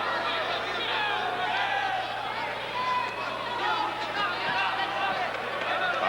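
More than 4,000 fans fill Memorial Auditorium for a boxing match, and their steady crowd murmur and chatter form a dense, even hubbub with scattered voices.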